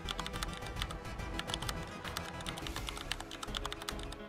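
Fingers typing on a computer keyboard, a quick, continuous run of close key clicks at a steady moderate level.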